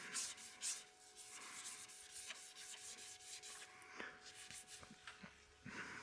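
Sandpaper rubs by hand across a CA-finished piece in a cross-hatched pattern, producing soft, close, repeated scratchy strokes at low volume.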